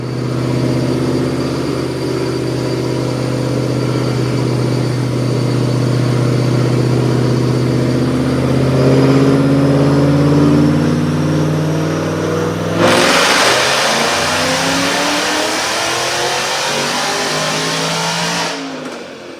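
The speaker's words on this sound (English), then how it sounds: "Check out this dyno pull." A 2010 Roush Mustang with a 3V V8, headers and Detroit Rocker cams winds up on a dyno, its loud engine note climbing steadily through the revs before abruptly cutting off and falling away.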